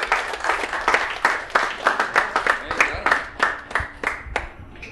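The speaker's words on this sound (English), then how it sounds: "I want you to give him a nice, big, warm, rousing round of applause" Audience at a comedy show for comedian Dan Wasik gives sustained applause with dense clapping that swells and ebbs in waves, plus some scattered cheers.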